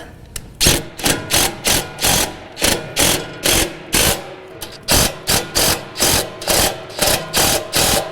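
A ratchet tightens nuts on a bracket of a John Deere Z735M ZTrak mower, giving a close, loud run of rapid rhythmic clicking bursts with brief pauses between strokes.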